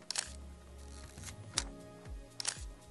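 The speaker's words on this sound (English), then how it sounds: "Oh, that shutter." A few crisp mechanical clicks of a Nikon FA 35mm film SLR shutter firing close by, with small winding and handling noises between them.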